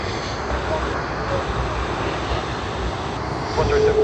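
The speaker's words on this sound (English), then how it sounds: "do you all hear that engine spooling sound in the background?" Jet aircraft engine spooling up at Sydney Airport, a broad steady roar with a thin rising whine, constant and fairly loud, swelling slightly near the end.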